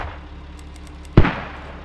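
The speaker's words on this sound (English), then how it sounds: "mortars are coming" A single sharp, heavy blast of incoming mortar fire lands in the Squad video game, a sudden boom after a quiet stretch with faint ticking, then a quick fading rumble.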